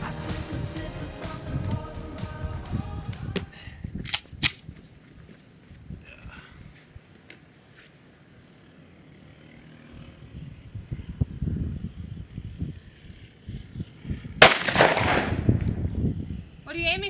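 Two sharp, loud single gunshots crack outdoors at a shooting range on a mesa, spaced well apart, with people talking around them and wind in the background.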